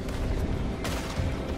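Gunfire in the Red Dead Redemption 2 shootout against the Grays, a dense continuous rumble of shots with one sharper crack partway through, loud and close.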